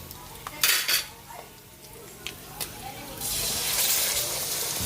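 Broth poured into a pan holding fried pork chops, with metal pan and utensil clinks first, then a rising steady rush of liquid, close up and with no talking.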